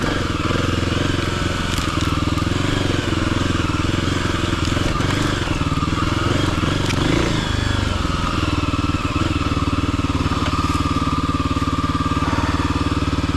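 A Tusk DSport dual-sport motorcycle rides along at an easy pace with a continuous, close engine drone and wind rush, and a voice speaks briefly over it.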